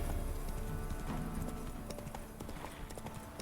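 Hooves of the horse Roach in The Witcher 3 clip-clopping in a quick galloping rhythm, steady and fairly close over a faint game background, with no talk.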